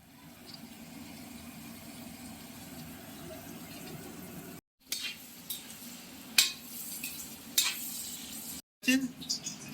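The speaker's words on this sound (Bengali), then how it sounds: "ভাজার পরে এবার দিয়ে দেওয়া হচ্ছে ভিজিয়ে রাখা কাজু কিশমিশটা" Soaked cashews and raisins stirred into hot oil in a kadai, giving a steady low sizzle with a few sharp scraping clinks of a spatula against the pan near the end.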